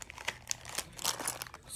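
A plastic bag crinkles and crunches as a multi-tool is unboxed, giving a steady run of close, sharp rustling bursts with no talking.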